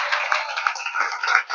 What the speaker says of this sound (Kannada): ಜೋರಾಗಿ ಚಪ್ಪಾಳೆ ತಡ ನಾವು ದೇವರಿಗೆ.